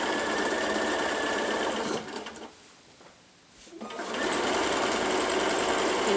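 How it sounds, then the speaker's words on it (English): A sewing machine stitches fabric onto ByAnnie's Soft and Stable in a steady, fast, close whir, pausing briefly in the middle before running again at full speed. "I'm going to stitch all the way up and down that line"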